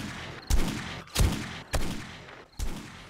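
AK rifle firing in the video game 7 Days To Die, four loud, sharp gunshot bursts spaced about half a second apart, each with a booming tail, close and with no talking.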